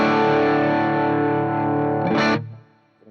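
Electric guitar played through a Warm Audio Warmdrive overdrive pedal, a single distorted chord ringing loud and sustained, then a brief pick scrape before it cuts off and fades.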